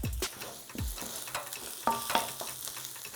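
Garlic, spring onion whites and Chinese sausage stir-fried in a wok, with a steady sizzle, repeated scraping stirs and a few metallic clinks, close and with no talking.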